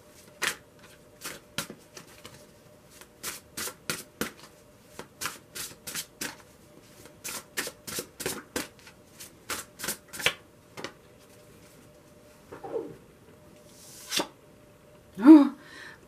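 Tarot cards being shuffled by hand in quick, evenly spaced riffling bursts, close and crisp against a quiet room, followed by a few softer handling sounds near the end.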